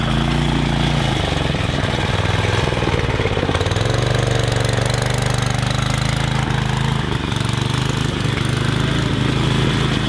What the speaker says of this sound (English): I think the engine's just like a lawnmower engine of some description